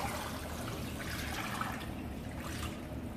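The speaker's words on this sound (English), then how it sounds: "I'm going to add a bowl of water into it" A bowl of water pours into a pot of meat and peanut butter, a continuous close splashing trickle lasting a few seconds.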